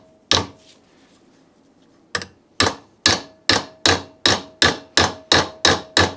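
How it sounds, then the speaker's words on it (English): A copper hammer strikes a bent engine pushrod laid on a piece of wood, giving one sharp knock, a pause, then about ten evenly spaced, loud, close taps. "with a copper hammer I'm just going to try to straighten it up"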